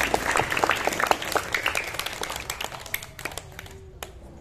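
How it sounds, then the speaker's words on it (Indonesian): An audience applauds teachers at a campus event held at an Islamic boarding school, dense clapping from a sizable crowd that thins and fades over a few seconds. "Beri tepuk tangan buat guru kita semuanya."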